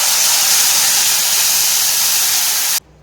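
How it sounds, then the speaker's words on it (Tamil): Tamarind water poured into a hot pan while making temple-style puliyodharai sets off a loud, steady, broadband sizzling hiss that cuts off abruptly near the end; close, with no talking. "பெரிய எலுமிச்சை சைஸ் புளி கரைச்சி வச்சுருக்கேன்,"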